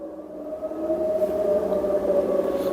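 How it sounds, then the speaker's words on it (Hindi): Air-raid sirens wailing over the Bapco oil refinery during a missile attack, a sustained distant tone with a slowly shifting pitch, heard alone for a few seconds. "सायरन बजते रहे"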